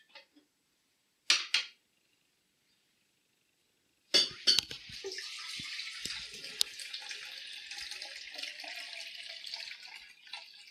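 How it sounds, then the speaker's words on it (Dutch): Tap water runs steadily into a Nespresso coffee machine's water tank at a kitchen faucet, a continuous close hiss after a few brief clinks and a short spurt of flow. "En vul deze met schoon kraanwater."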